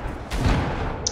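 A grenade blast in the video game Fortnite: one broad, rumbling boom that swells and fades over about a second, with a small sharp click near the end and no voices.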